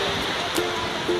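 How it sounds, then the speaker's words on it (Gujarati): River water rushing down from Jatashankar in the Girnar hills, a steady broadband wash of flowing water close by, continuous and fairly loud with no clear breaks. "નદીનો આખો પાણીનો પ્રવાહ આવે છે જટાશંકરથી"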